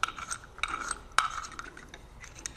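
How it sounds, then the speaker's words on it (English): A wrench breaking loose a bolt on a chain drive gear during an AM10 to 1410 conversion, giving a few sharp metallic clicks and ratcheting taps spread over a couple of seconds, close and fairly quiet. "we're likely going to need to take it back off with the wrench. There we go, break it loose."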